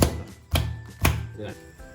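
Layered Kerala parotta dough is beaten by hand on a work surface in three heavy, evenly spaced slaps, close and thudding, with a voice speaking over them.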